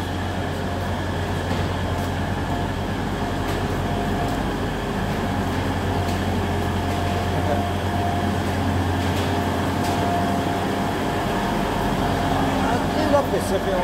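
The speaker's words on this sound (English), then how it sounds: "There goes the tram." A Nottingham tram rolls past with a steady low rumble and hum that holds evenly throughout, with no voices over it.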